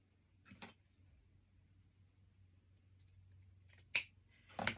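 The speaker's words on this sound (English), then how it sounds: "now we're going to cut the side seam off." Scissors snip through the side seam of a cotton shirt close by. A few sharp, quiet blade clicks are spread over a faint room hush, and the last cuts are the loudest.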